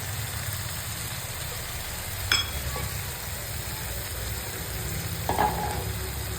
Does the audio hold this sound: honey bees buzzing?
no